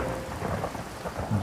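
Heavy rain pours down at night in a dense, constant hiss while low thunder rumbles underneath, swelling near the end, with no voices.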